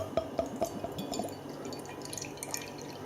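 Beavertown Ara Kiri Saison beer pours into a glass, a soft liquid trickle with glugging drips early on that thins into a quiet fizzing hiss, close and without talk.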